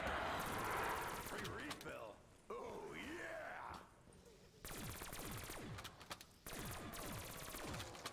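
Rapid automatic fire from a VMP submachine gun in Call of Duty Zombies on The Giant, round 100, crackling in dense bursts with short gaps, mixed with game effects and groans.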